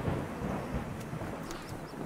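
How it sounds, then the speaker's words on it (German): A thunderstorm in the video game The Universim: a low rolling rumble of thunder under steady rain hiss, fading slightly toward the end, with no voices. "Gewitter!"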